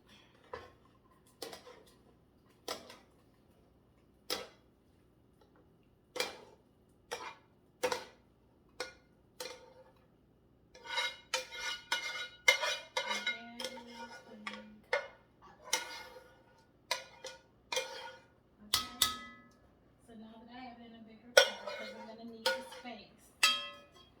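Ingredients for a succotash of vegetables and lima beans are tipped and scraped into a bigger cooking pot in a home kitchen, producing a string of sharp metallic clinks and knocks at an irregular pace, close by, with a voice now and then.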